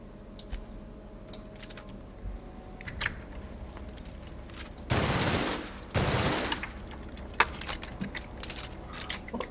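Assault rifle fire in The Outer Worlds video game: two sustained automatic bursts in quick succession, loud and close, over a quiet background with faint ticks and clicks.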